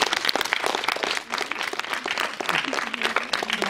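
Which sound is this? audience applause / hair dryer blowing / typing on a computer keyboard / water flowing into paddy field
audience applause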